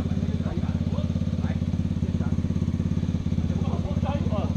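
A trail motorcycle, struggling on a rough off-road climb, runs with a loud, close, rapidly pulsing engine note held fairly steady throughout, while voices shout over it now and then.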